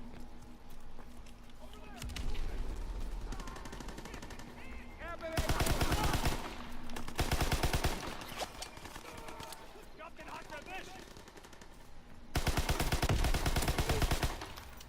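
Unsuppressed gunfire in the Call of Duty: WWII multiplayer beta comes in loud, rapid automatic bursts. Heavy volleys arrive around the middle and near the end, separated by quieter stretches of distant shots and game noise.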